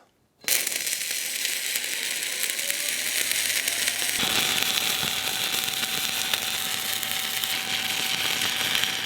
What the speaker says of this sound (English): let the welding commence